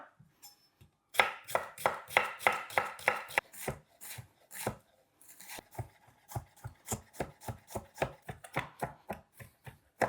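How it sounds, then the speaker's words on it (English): Half a white onion and garlic cloves are finely chopped with a knife on a board, producing a close, crisp run of rapid rhythmic chops, some fast bursts and some slower, with no talk. "I want to use a combination of half white onion and 3 cloves of garlic, and we're going to chop this finely"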